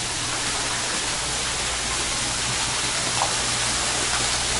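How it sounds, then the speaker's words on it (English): Waterfall along the Enchanted Trail at Rock City, Georgia, a steady broadband rush of falling water that fills the clip at a constant, fairly loud level with no talk over it. "Nice waterfall."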